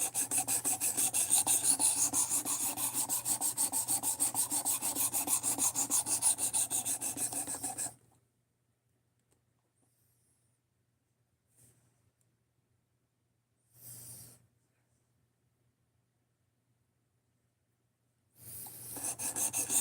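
Knife blade rasping against a sharpening stone to raise a burr, about eight seconds of steady rhythmic back-and-forth scraping, then silence broken by a brief scrape and a final burst of strokes.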